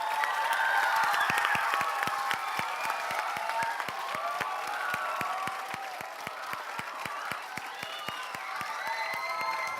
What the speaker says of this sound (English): we just want to give a very, very, very big round of applause to Zach